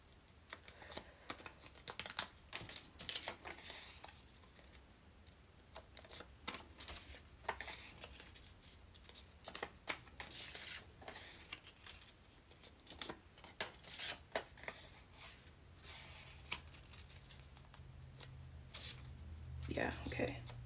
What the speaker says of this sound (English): I'll fold these all in half.